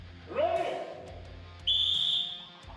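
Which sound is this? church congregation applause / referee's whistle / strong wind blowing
referee's whistle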